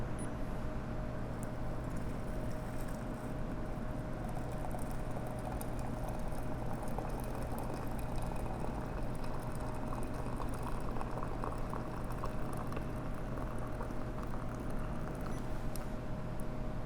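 Water poured in a steady stream from a Bonavita kettle into a vessel for about fifteen seconds, a continuous close bubbling pour with no talk.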